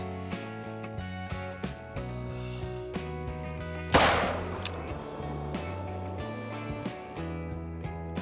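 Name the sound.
rifle shot in video game theHunter: Call of the Wild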